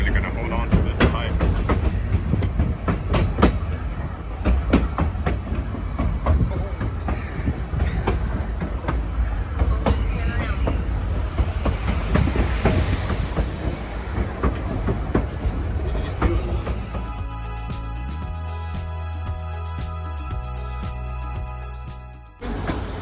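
An Alaskan train rolls along its rails with a steady rumble, rhythmic clicking and occasional wheel squeal, heard from inside the car; near the end the sound shifts to a quieter tonal hum.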